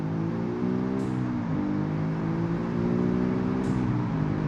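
A Boxer 4 twin-turbo car with a manual gearbox accelerates hard in BeamNG.Drive, its engine droning loud and steady with rising, overlapping harmonic tones. There are two brief gearshift dips, and no voice is heard.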